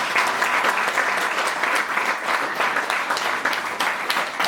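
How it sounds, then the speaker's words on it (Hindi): Loud, dense clapping from a group at a corporate laughter yoga session, sustained and steady throughout with no voices over it. "एक बार सभी के लिए जोरदार तालियां हो जाए।"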